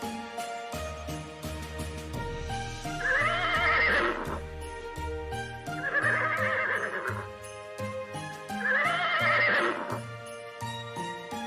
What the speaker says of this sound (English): Horse is a beautiful and adorable farm animal.